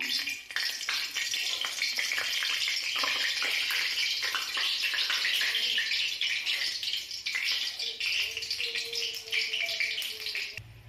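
Two dried red chillies fry in hot oil in a wok while shukto is cooked, giving a steady, close, loud sizzle that crackles on without pause throughout.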